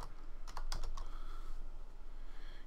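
Rapid keystrokes on a computer keyboard as a password is entered while setting up Windows 8 Release Preview in a virtual machine, a short close burst of clicks over a steady hum of background noise.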